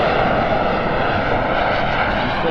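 Fixed-wing aircraft engine at half throttle on approach to landing with gear down, a steady, loud, continuous drone that holds an even level throughout, with no voices.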